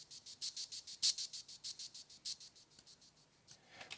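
Ride cymbal track treated with a SoundToys effect into rhythmic pulsing, a fast, even train of bright shimmering pulses that thins out toward the end, faint and alone.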